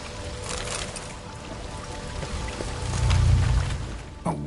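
Rushing water of a waterfall flowing upwards in the game The Witcher 3, a steady moderate wash that swells briefly louder before ending in a sharp knock.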